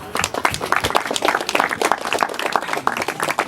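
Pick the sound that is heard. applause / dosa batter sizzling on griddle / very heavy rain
applause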